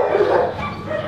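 A stressed dog in an animal shelter gives a loud, close, whiny bark that trails off into a whimpering yip.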